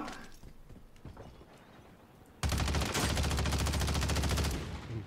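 Desert Eagle pistol firing in a shooter game, loud, rapid, sustained volley of close gunshots starting abruptly partway through, after quieter footsteps and ambient noise.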